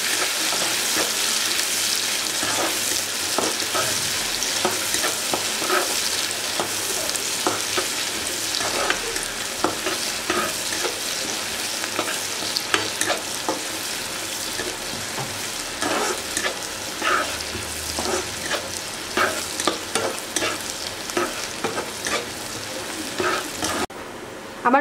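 Chopped onions fry and are stirred until brown in a pan for chicken polao. A steady close sizzle runs throughout, with frequent scraping and stirring clicks and no voices.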